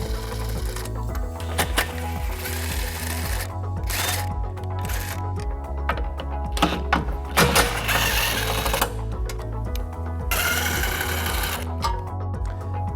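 Power tool with a 13mm socket running bolts out of the passenger-side bumper beam on a 2017 Volkswagen Golf SportWagen, a steady whirring and buzzing that pauses and restarts in several close, loud bursts, with no talking.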